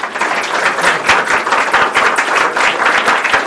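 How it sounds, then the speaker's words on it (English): A live audience claps in a dense, steady round of applause, loud and close throughout with no voices over it. "big round of applause for Nancy and Lou"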